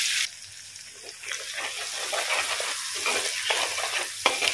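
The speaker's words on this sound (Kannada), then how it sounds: "ಈಗ ಫ್ರೈ, ನಾವು ಇಲ್ಲಿ ಜಜ್ಜಿ ಇಟ್ಟ ಶುಂಠಿ, ಬೆಳ್ಳುಳ್ಳಿ ಮತ್ತು ಕೊತ್ತಂಬರಿ ಅನ್ನೋದು ಹಾಕುವ," Crushed ginger, garlic and coriander fry in a clay pot, giving a continuous close sizzle. Faint stirring and splashing sounds run underneath, and a sharp clatter comes near the end.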